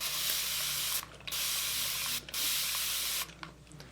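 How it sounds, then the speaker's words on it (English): A handheld spray bottle mists water onto low porosity microlocs in three quick, close hissing bursts separated by brief pauses. "if I take my spray bottle here and I spray my hair"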